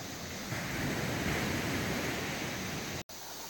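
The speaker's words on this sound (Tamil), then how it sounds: "ஸோ இந்த தண்ணி சூப்பராக ஓடிட்டுருக்குது" Ocean waves wash steadily onto a beach at Manuel Antonio, Costa Rica, a continuous close-up rush of surf that cuts out for an instant near the end.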